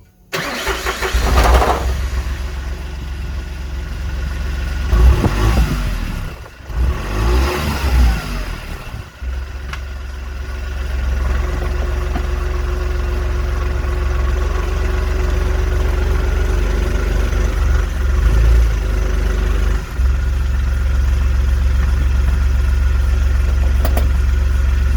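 A car engine cranks and fires, revs briefly, then settles into a steady low idle for a long stretch while an exhaust rattle is checked; loud and close, no talk.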